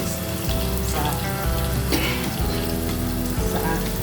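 Tofu frying in oil in a pan as the pieces are flipped, a steady close, loud hissing sizzle throughout with occasional clatter from turning the pieces.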